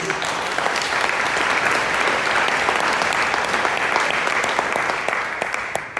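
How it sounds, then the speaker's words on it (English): An audience at a museum pitch night applauds steadily, dense clapping that holds at an even level for several seconds. "So we'll put our hands together and give them a round of applause."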